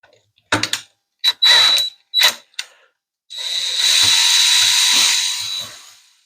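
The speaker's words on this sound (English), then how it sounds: "Okay, I can use a drill." A power drill mixing thermal coating whirs in several short bursts, then runs steadily for a few seconds at close range before spinning down.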